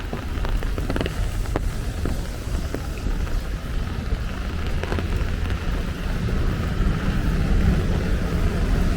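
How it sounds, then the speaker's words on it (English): Steady rain falling on a Brooklyn street, a dense continuous hiss with occasional louder drips and taps, evenly loud throughout with no talk. "Letting you guys hear some of the sounds of the rain."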